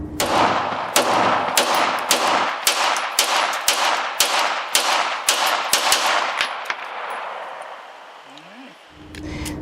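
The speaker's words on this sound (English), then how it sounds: "That was the Argentinian HI Power. This is made by F.M.A.P. Rosario." An Argentinian FMAP Hi Power 9mm pistol fires a rapid string of about a dozen loud, sharp shots outdoors at a range, each crack ringing out before the final echo fades.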